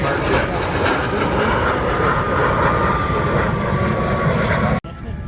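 Loud, steady roar of a propeller aircraft engine close by at an air show in Tyler, sustained throughout with a brief dropout near the end.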